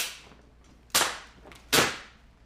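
Two sharp airsoft gun shots spaced under a second apart, each a crisp loud crack with a short tail, fired during an outdoor airsoft battle with no talk over them.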